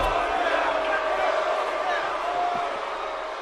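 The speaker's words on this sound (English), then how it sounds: "The crowd chanting, kill Owens, kill" A dense arena crowd in the WWE 2K17 wrestling game roars and chants continuously, a loud sustained wall of massed voices that eases slightly toward the end.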